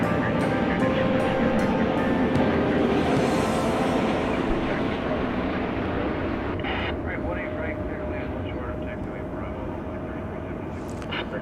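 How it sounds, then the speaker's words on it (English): An airliner on Flight 2342 from San Antonio rumbles with a broad, continuous jet roar at DFW Airport around daybreak, loud and steady throughout, fading slightly toward the end while a voice talks over it. "It's Flight 2342 from San Antonio, Texas."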